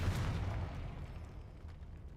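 A Confringo fire spell explodes in a Harry Potter video game as a deep, rumbling boom that fades into a low roar over a couple of seconds.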